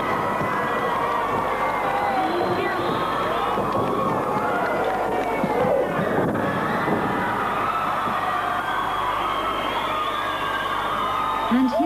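A large crowd at a 1990s All Stars Wrestling event in South Africa roars and cheers continuously, loud and dense, with shouts and whoops rising above the steady din.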